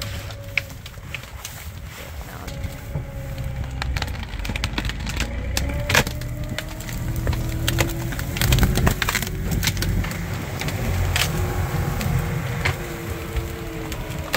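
A Sherp ATV crashes through dead wood debris, a continuous crackle of snapping branches and splintering wood over a steady engine rumble, with sharp cracks scattered throughout.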